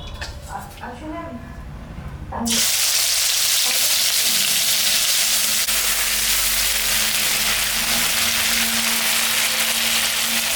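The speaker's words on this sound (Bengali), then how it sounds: "মাছটায় লবণ দিয়ে দিলাম হলুদও দিয়ে দিলাম মাছটা একটু হালকা ভাজে নেব" Fish seasoned with salt and turmeric starts frying lightly in hot mustard oil in a pan, a loud, dense, continuous sizzle that bursts in after a moment of quieter kitchen sounds and runs on steadily.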